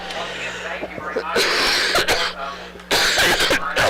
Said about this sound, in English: Sorry about that, folks. I apologize for my cough.